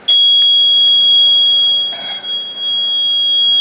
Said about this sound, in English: if it's illuminated and the buzzer is buzzing, it is a low oil pressure indicator.